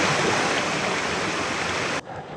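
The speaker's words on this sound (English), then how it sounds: "The water's really rolling." A rushing stream flows loud and close, a steady broadband roar of churning water that fills the clip and drops off sharply near the end, with no talk.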